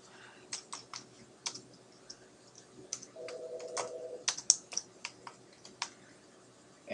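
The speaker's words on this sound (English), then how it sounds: "go ahead and enter phone numbers, unit numbers, occupation information, click on OK" Keys clatter in irregular bursts on a computer keyboard while buyer details are entered into a form, close and fairly quiet, with a soft steady hum in the middle.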